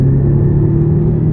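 A 2012 Audi TT S turbo in sport mode pulls away under light throttle, its engine giving a steady low rumble and whir, close and loud, for just over a second.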